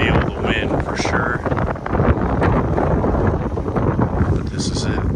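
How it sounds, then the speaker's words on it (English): Strong wind buffets the microphone in Michigan during an RV transport trip, a loud continuous roar and rumble that holds steady for the whole stretch without letup. "It was super windy, so you can definitely feel the wind for sure."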